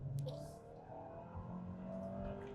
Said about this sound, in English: Listen to that engine note.